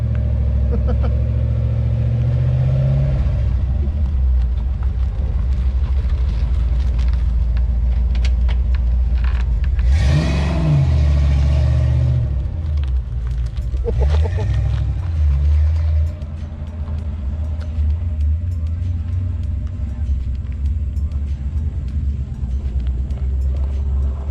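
A 1988 Ford Mustang GT Foxbody V8 idles with a deep rumble, then revs and pulls away around the block, engine swelling loud before fading as it drives off, with brief talk nearby.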